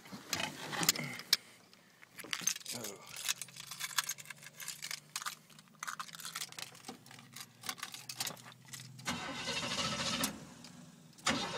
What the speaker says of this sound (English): This one hasn't been started in about a week and do a cold start for y'all.